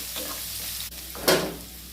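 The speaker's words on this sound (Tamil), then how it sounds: "வெங்காயத்தை கொஞ்சம் நல்லா வதக்கிக்கோங்க." Onions sautéing in a pan give a continuous close sizzle, broken near the end by a brief louder scrape or stir that fades back into the steady frying.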